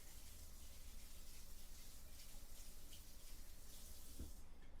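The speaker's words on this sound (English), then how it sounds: "I'm gonna need this whisk, so I gotta rinse that off real quick" Tap water runs steadily into a kitchen sink while a whisk is rinsed under it, a soft continuous splashing rush with a faint clink near the end.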